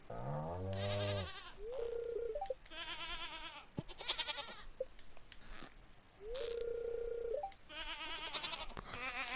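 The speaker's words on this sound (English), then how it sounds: "one of those two goats over there is Tess" Two goats on a farm bleating repeatedly, loud wavering cries close by with short quiet gaps between calls.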